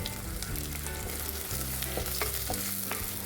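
Onions, green chillies and curry leaves sautéing in hot oil for a Kerala drumstick-leaf stir-fry, a steady close sizzle with occasional spatula scrapes and stirs, no voices.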